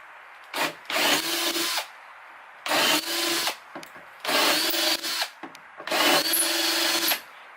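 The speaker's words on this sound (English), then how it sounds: "So, I'm going to drill all these out." A power drill bores out bolts in a jetboat deck panel in four long bursts, each roughly a second or more, separated by short quiet gaps, close and loud with a grinding, rasping edge.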